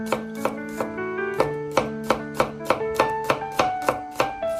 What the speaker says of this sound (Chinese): 直接给它剁成蒜末，剁细一点。